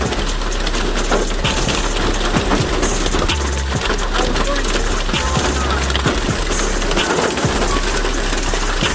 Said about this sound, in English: Hail, we have hail.